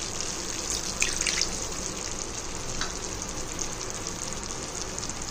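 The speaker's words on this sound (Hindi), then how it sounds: "इसमें हम थोड़ा सा पानी ऐड करेंगे।" Water is poured into hot, cooked masala for egg biryani and sets off a steady loud sizzle and hiss with bubbling, close by and unbroken, with no talking.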